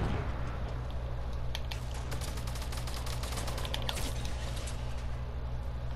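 Gunfire rattles in a Fortnite match over a constant loud low game drone, with a dense cluster of rapid sharp cracks in the middle, clicking mechanisms and no speech.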